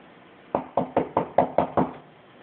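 Seven sharp knocks rap on a door in a quick, even series, close and fairly loud, with no talking over them.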